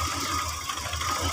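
A worn Daihatsu Zebra Espass 1.3 engine with old, dirty oil and a dirty carburettor idles steadily and close by, a rough low rumble with a faint knocking pulse under it and no talk.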